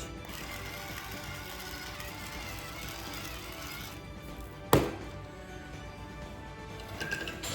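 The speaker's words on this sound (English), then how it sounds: "Salt and pepper from our trusty little electric grinder" A small electric salt and pepper grinder whirs steadily for a few seconds, stops with a sharp click, then a quieter room remains.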